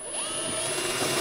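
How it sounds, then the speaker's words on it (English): A power drill bores a hole for the seat mount on an LO206 go kart, its motor whining up in pitch as it spins up, loud and close, for a brief burst. "I just need to plan where I'm going to drill the hole"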